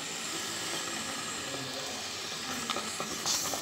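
Steady, close bubbling and hissing of rice batter cooking in a pot, a continuous sizzle with soft pops and no voices.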